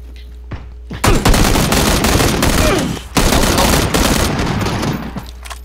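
Heavy video-game gunfire pours out in dense, loud automatic bursts from a close first-person shooter match, briefly pausing mid-way before resuming, with only scant talk over it.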